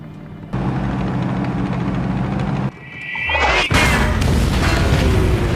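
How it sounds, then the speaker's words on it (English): Anti-tank cannon fire strikes a tank, with a sustained mechanical rumble giving way to a rising whoosh and then a loud, harsh impact boom that lingers as rough noise. "they are suddenly attacked by an enemy using an anti-tank cannon"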